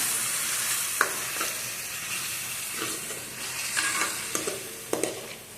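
Salted ingredients mixed and sautéed in a pan for a jilebi fish kuzhambu, with a soft continuous sizzle and occasional light spatula taps and scrapes close by.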